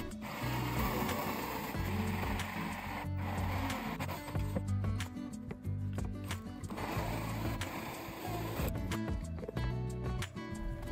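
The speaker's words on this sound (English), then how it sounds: "I used a 4-inch hole saw to cut out the hole just in case my mark was slightly off center." A 4-inch hole saw on a drill cuts a hole through a plastic rain barrel, grinding and rasping in uneven bursts with brief pauses and stutters, fairly close and moderately loud.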